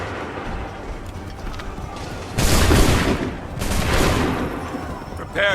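Massed musket volleys in Assassin's Creed 3 crack out as two loud, broad bursts of gunfire, one near the middle and another shortly after, over a continuous battlefield rumble with a sharp sound at the end.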